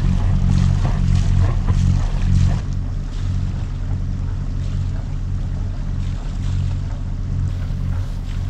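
A sailboat motors through the Swedish skerries, with a steady low engine drone and rumble close by, mixed with wind buffeting the microphone and water wash.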